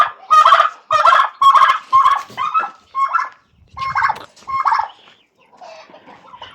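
Japanese breed chickens calling loudly and close by, a rapid series of sharp, repeated squawks and clucks in bursts, fading to softer clucking toward the end, with no talk over them.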